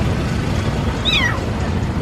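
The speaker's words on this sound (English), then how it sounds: "Oh, here, baby kitten." A kitten gives one short rising meow, moderately close, on an outdoor walk on a hot day in Angeles City, Philippines, over steady low background noise.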